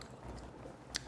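Chewy squid being chewed close up, a soft moist squish with a brief sharper bite near the end, alone and without talk.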